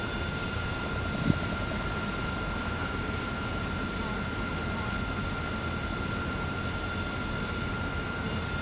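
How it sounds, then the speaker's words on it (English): A Huey helicopter flies in a flight simulator game, its rotor and turbine droning steadily and evenly throughout, with one faint click near the start. "These things sound insane. Like, that's the one thing I will give to the Huey, is they sound mint."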